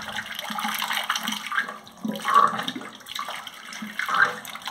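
A toilet cistern refills after a repair, water gushing and trickling in uneven surges with hollow splashing, close by and moderately loud, with no speech.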